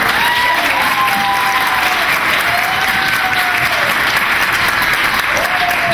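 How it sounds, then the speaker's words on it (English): Loud, steady applause from an audience at an award event, dense clapping throughout with a few cheering voices rising over it. "clap it up."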